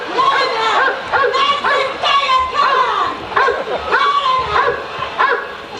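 A dog barks and yips repeatedly in quick, uneven bursts close by, mixed with what sounds like voices.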